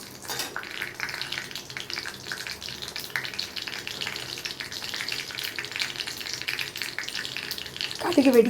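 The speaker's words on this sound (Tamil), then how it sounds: "அது இப்படி கடுகு பரத்தி விட்டால் வெடிக்கும்" Mustard seeds spluttering and sizzling in hot oil for a Tamil turkey berry curry, with a ladle scraping and stirring the pan; steady close frying crackle with small pops and clinks throughout, no talk.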